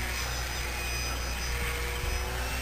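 A small Nitroplanes 800mm P-40 radio-controlled model airplane flies a stall, its electric motor and propeller whining steadily and fairly far off over a constant outdoor hiss, with no clear change in pitch.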